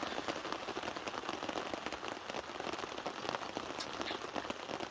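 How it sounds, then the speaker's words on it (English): A downpour drums hard on a tarp sheltering a tent in Galloway Forest, an unbroken close roar of rain with scattered louder drips standing out, no talk. "You can see sunshine, but it's absolutely bucketing down."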